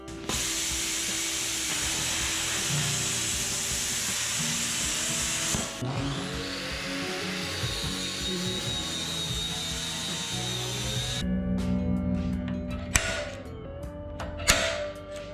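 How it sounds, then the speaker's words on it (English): A power tool cuts a bracket out of a sheet of aluminum, making a steady whining, grinding drone that shifts pitch partway through, then breaks into clattering mechanical bursts near the end. "I'm going to start by cutting one of those out of the sheet of aluminum."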